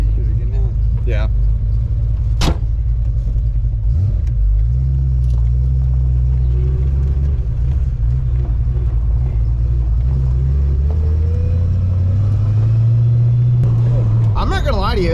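Fox body Ford Mustang with T-tops and a T5 transmission swap driving, its engine rumbling loud and close with revs rising and falling through gear changes, while people talk over it.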